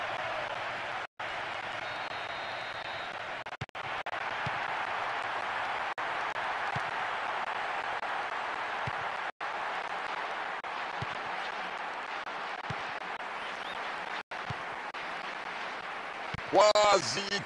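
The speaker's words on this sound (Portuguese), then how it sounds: "O estádio treme com a torcida" A football stadium crowd roars and applauds in a steady, dense wash of cheering after a goal in an England versus Switzerland match, with a commentator speaking over it throughout.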